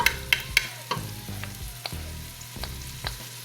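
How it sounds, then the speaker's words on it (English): Garlic tipped into a pot of softened onions and fried, a steady sizzle punctuated by sharp clinks and scrapes of a spoon stirring against the pot. "So now I'm gonna add all my garlic."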